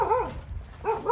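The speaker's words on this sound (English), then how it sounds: "Oh, there's a dog." A dog gives two close, short barks, one at the start and one near the end, with a quieter gap between them, heard outdoors near chickens on the way to a beach.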